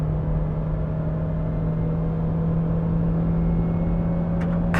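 A Daihatsu Sigra car accelerating in second gear toward 6000 rpm, a steady engine drone with a rising tone heard from inside the cabin, continuous and fairly loud.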